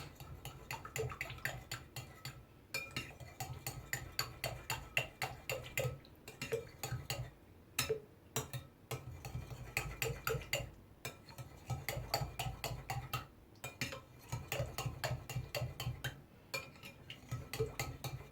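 A spoon clinks rapidly and repeatedly against a bowl while stirring an oil-based sauce for spinach börek, in quick bursts separated by short pauses.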